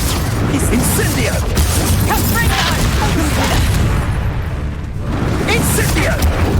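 Hogwarts Legacy on PS5, a fiery Incendio spell bursting amid a spell duel, dense booming whooshes and crackles that stay loud throughout, a brief lull, then more blasts, with in-game voices talking over the combat.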